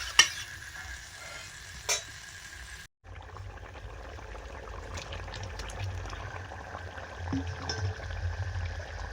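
Water goes into a pan of fried, spiced potato and pointed gourd for a fish curry: a couple of clinks, then a brief drop into quiet before a steady bubbling sizzle settles in, close and alone.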